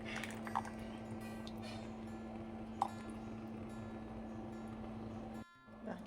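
A mixer grinder blends curry ingredients with buttermilk for a moru curry. Its motor gives a steady, close drone with a couple of faint clicks, then cuts off abruptly near the end, leaving brief quiet.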